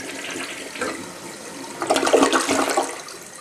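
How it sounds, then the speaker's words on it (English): Newly installed toilet flushing, a soft rushing start then a louder surge of swirling, gurgling water that drains and fades, close and alone with no talking. "So let me give it a little flush and see what happens."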